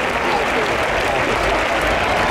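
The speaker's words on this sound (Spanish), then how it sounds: "¡Fuerte el aplauso para el umbrales!" An audience applauds at a bull-cutting competition in Arévalo, with loud, dense, sustained clapping that fills the whole moment and has some crowd voices mixed in.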